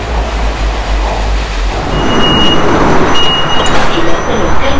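Kuala Lumpur MRT metro train in motion, heard from inside the carriage as a loud, steady low rumble with rolling rail noise and faint whining tones.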